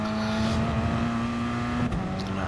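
Race cars in Gran Turismo Sport on the St. Croix circuit give a steady, loud engine drone with a sustained tone that drops in pitch near the end, with no voices.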